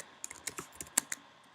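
Typing on a computer keyboard, a quiet, close, irregular run of about eight to ten crisp key clicks over a second and a half.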